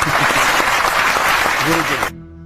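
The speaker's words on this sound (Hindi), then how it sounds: "ताली बजेगी अब देखो" Family members clap for a two-year-old who names Indian states on a map, a burst of close, dense applause with voices over it, cutting off abruptly near the end.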